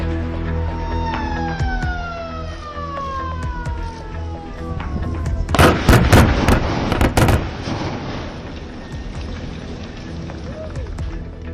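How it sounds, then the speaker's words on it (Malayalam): First tunnel blast of the Wayanad tunnel project in Kerala: a cluster of sharp, loud broadband bursts rings out in the middle, following descending siren-like tones, with a rumbling tail afterward. "ഫസ്റ്റ് ബ്ലാസ്റ്റ് സ്വിച്ച് ഓൺ ചെയ്ത് മുഖ്യമന്ത്രി"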